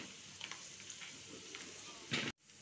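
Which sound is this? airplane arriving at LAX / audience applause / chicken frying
chicken frying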